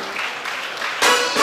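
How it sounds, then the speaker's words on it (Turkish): Short burst of applause from a small group, light clapping that swells louder toward the end. "Hadi alkışlarla başlayalım şu an burada."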